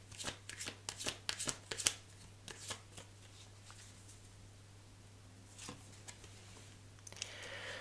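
Tarot cards are shuffled in quick crisp riffles and slaps for about three seconds, then a few softer shuffles follow over a steady low hum in a quiet room.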